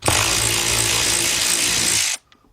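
A power tool whirs loudly and steadily for about two seconds while backing out screws near the fog light area of a 2010 BMW 528i, close by, then cuts off sharply.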